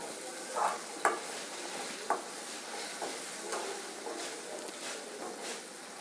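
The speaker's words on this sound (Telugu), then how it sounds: "1/2 స్పూన్ పసుపు వేసి ఒకసారి పైన అలా కలుపుతున్నాము." Turmeric being stirred into ginger-garlic paste frying in a pan, a soft continuous sizzle broken by a few scraping spoon strokes near the start, fairly quiet and close, with no talking.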